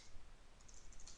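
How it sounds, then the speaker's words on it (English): Typing on a computer keyboard during a Git tutorial about pushing to a GitHub repository, a faint, steady patter of key clicks with no talk. "So you actually need to type that out."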